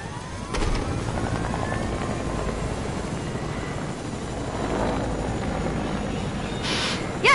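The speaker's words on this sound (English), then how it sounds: "Maybe if I fly with the chopper," A video game helicopter drones steadily for the whole stretch, its rotor and engine noise holding at an even, moderately loud level with no talking over it.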